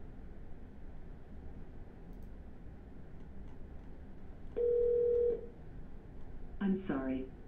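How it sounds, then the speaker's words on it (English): Two short telephone keypad dialing tones beep in quick succession, a steady tone followed about a second later by a brief second one, over faint line hiss. "Double dial."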